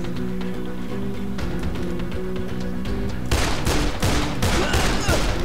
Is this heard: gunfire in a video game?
yes